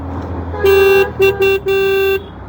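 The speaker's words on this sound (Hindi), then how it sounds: "मैं अभी आपको सुना देता हूँ हॉर्न।" A Bajaj Pulsar NS400Z motorcycle horn honks four times nearby: a long beep, two short ones, then a longer sustained blast, loud and tonal.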